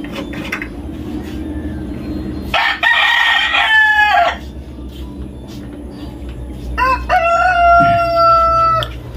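A native chicken crows loudly twice, each crow a long drawn-out call, over a steady low background hum and faint clucking.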